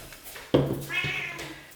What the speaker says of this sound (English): She's a very noisy kitty.